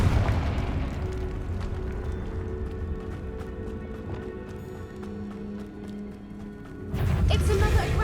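Spell blasts and magical explosions from the open-world action RPG Hogwarts Legacy, booming over a continuous bed of game music and effects, with a louder burst near the end.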